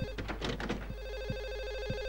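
A telephone rings inside the Silent Hill 4 video game, a few short repeated ring bursts over a constant electronic hum and dull footstep-like thumps, moderately faint with no talk.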